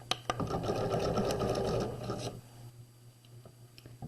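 A sewing machine runs steadily for about two seconds while back stitching across a jacket seam, its rapid needle chatter close and loud before stopping into quiet room tone with a few faint clicks.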